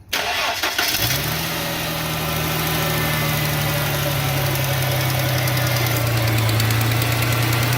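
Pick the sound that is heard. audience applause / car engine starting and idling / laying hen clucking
car engine starting and idling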